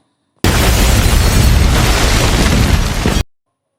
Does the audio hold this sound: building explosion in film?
yes